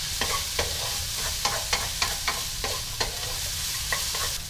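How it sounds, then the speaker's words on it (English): Carrots being stir-fried in a pan: a steady sizzle with a regular series of sharp scraping clacks from the stirring utensil, close and fairly loud. "So add the carrot first and stir just about 30"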